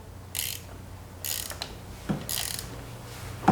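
Ratchet wrench tightening the negative battery cable terminal on a Nissan Pathfinder: several short bursts of fast metallic clicking separated by brief pauses, close and moderately loud, with no talking.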